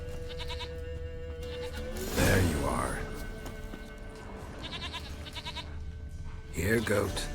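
A goat in The Witcher 3 bleats twice, a loud wavering call early on and another near the end, over quiet game music with a voice speaking between the bleats.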